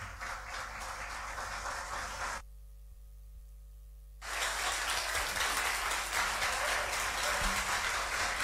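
Loud, dense clapping from a large audience at a high school debate, cutting off briefly to near silence with a faint hum before resuming just as strongly.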